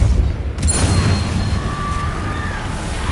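A Depulso spell cast in Hogwarts Legacy comes as a forceful whooshing burst with a rumbling, crashing body that lingers at steady loudness, with thin tonal shimmer threading through the tail.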